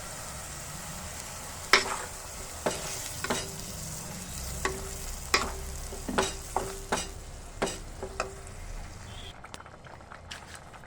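Puréed spinach hisses and sizzles in hot spiced oil, with a spoon knocking against the pan in a series of distinct taps while it is stirred, steady bubbling underneath.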